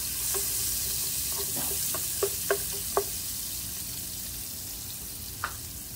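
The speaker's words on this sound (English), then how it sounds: "Okay, so I'm gonna fry up my yuca." Yuca pieces frying in oil with onion, a soft, steady sizzle with a run of spoon taps and scrapes against the pan, then a lone clink near the end.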